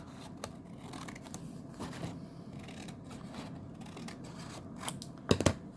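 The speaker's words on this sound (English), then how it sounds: "And regarding the edges, I'm just going to trim this a little bit." Scissors trimming the edges of a paper pocket for a junk journal, soft close snips scattered throughout and ending with a couple of sharper cuts.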